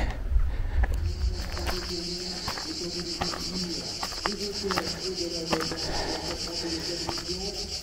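Cicadas on a hot mountain trail climbing toward a pass in the Pyrenees, a loud, dense buzzing chorus with rapid pulsing that carries on without pause, with scattered rustles and footsteps nearby.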